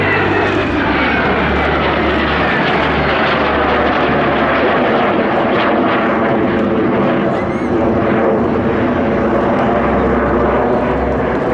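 A fighter aircraft performs at the Air Legend airshow at Melun-Villaroche in 2024. Its loud, sustained engine roar stays close and powerful throughout, with shifting tones as it manoeuvres overhead.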